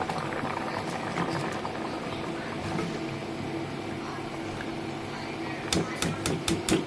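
A pot of biryani boils on the stove in a steady, bubbling patter with a constant wet hiss, joined near the end by a few sharp clicks and taps.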